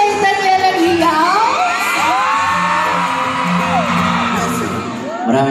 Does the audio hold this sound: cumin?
no